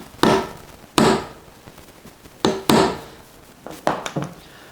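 A center punch strikes metal on a top box fitting for a CFMOTO 800MT Explore, marking a spot before drilling: several sharp, close knocks in separate pairs and clusters against a quiet background.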